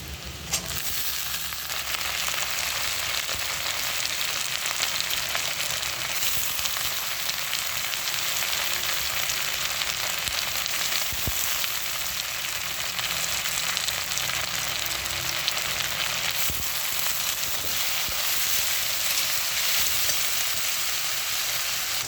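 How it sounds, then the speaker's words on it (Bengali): Potato and cauliflower pieces sizzle in hot oil in a pan, making a steady, close, even frying hiss that runs the whole time with no one talking. "ফুলকপিগুলো একটু ভাজা হয়ে গেছে, এবার আমি আলু দিয়ে দেবো সাথে।"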